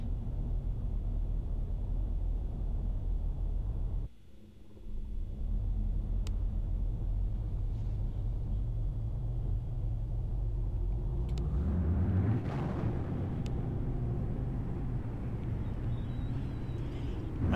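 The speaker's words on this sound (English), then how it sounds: "Warp drive active." A warp drive engine in a space video game rumbles low and steady under a faint hum. It briefly drops out, returns, then swells into a deeper, louder surge before settling.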